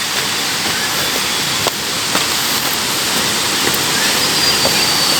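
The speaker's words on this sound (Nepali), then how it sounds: "यहाँ अगाडि खोला कराउँदैछ" Steady, loud rushing water fills the whole clip, a broad unbroken roar like a fast river close by, with a few faint knocks.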